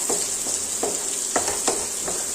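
Onions sautéing in a hot pan for chicken fried rice, a continuous loud sizzle broken by a few soft stirring scrapes at an uneven pace.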